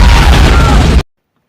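A single loud explosion from a war action film booms across a full second of dense, roaring blast noise, then cuts off abruptly into silence.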